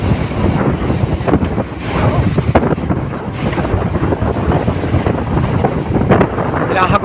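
Strong northeast monsoon wind buffets a small boat at sea, roaring loudly into the microphone over churning waves and hull splashes, continuous and close with gusty surges throughout.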